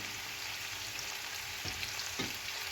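Chopped onions, curry leaves and green chilies sauté in a pan for mutton curry, a continuous close sizzle and hiss with a couple of soft stirring scrapes.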